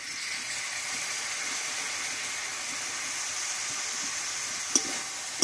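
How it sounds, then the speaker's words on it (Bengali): Beaten sour curd goes into frying spices and is stirred, producing a steady, loud sizzle and hiss throughout, with a couple of faint utensil taps near the end. "এখানে নিয়েছি কিছুটা টক দই, ভালোভাবে ফেটিয়ে নিয়েছি, আমি দিয়ে দেবো।"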